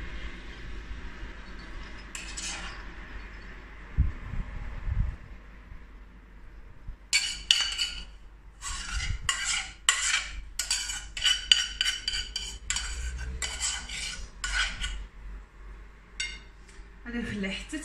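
A utensil stirs a semolina cake mixture in a bowl, making a run of quick clinking scrapes in the middle stretch between quieter pauses, with a voice talking at times.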